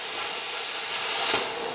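Steel piping being cut for an intercooler run, a loud continuous hissing roar that stays steady throughout and swells briefly near the end.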